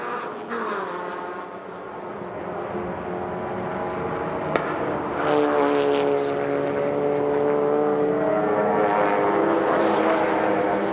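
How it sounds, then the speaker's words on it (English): Touring race car at a 300 km championship round, misfiring and not running on all cylinders, a continuous uneven engine drone with a patchy harmonic tone that holds steady at moderate distance for the whole stretch, no voices. "This car is not firing on all cylinders"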